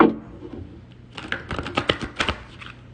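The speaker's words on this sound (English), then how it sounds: "Shuffle, shuffle." Quick crisp flutters and taps of a tarot deck being shuffled, a few bursts of riffling close by with short pauses between.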